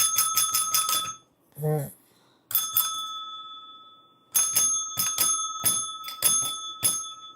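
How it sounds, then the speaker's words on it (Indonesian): A small bell on a table rings loudly in quick repeated bursts, close by, with pauses between the runs of rings and a brief hum from a voice. "wah bunyiin lonceng satu meja bergerak guys"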